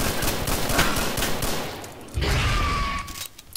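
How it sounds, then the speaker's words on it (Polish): Gunfire in Stalker: Call of Pripyat with the Misery mod, repeated loud shots blending into a dense fusillade, with a heavier burst of fire midway through. "No przecież strzelam do ciebie."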